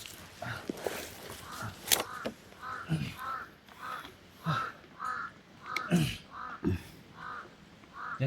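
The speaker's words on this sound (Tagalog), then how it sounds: "Uwak oh. Muntay uwak." A crow caws again and again outdoors. The harsh calls come roughly once a second at moderate distance, in an uneven rhythm with faint background noise between them.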